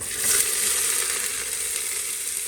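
Onion added to a pan with ginger and cumin fries with a loud, even sizzle that holds close and constant throughout, with no voices.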